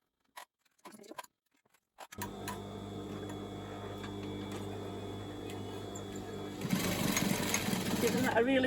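A domestic sewing machine back tacks the tie channel of a handmade bikini. A few clicks and handling sounds come first, then a close, steady motor whir with rapid needle ticking, which grows louder near the end as it reverses. A voice talks over it.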